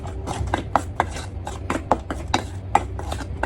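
A spoon or spatula stirs eggplant sisig in a pan, producing a rapid series of scraping clinks and knocks against the metal, close and fairly loud, with a low background hum.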